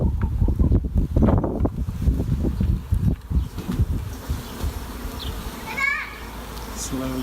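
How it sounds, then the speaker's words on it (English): Honey bees buzz around an opened hive, their drone running under close talking and handling noises and fading in and out. "Give them a minute to calm"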